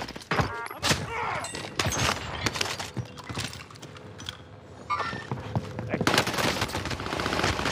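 Rapid automatic gunfire bursts from Call of Duty Warzone on Rebirth Island, sharp cracks and volleys repeating across the stretch with dense battle noise, loud and close at times.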